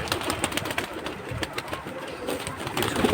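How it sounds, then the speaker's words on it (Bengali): Several pigeons of mixed breeds coo in low, overlapping murmurs with soft fluttering and shuffling nearby, a steady, moderately loud flock sound without speech. "তো আমার এখানে ভ্যারাইটিস কবুতর,"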